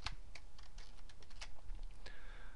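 Keys tapped on a computer keyboard while entering a shortcut, a quick irregular run of close, crisp clicks with no voices.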